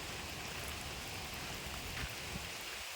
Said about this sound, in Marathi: पाऊस पण आला आहे ना चालूच आहे अजून पाऊस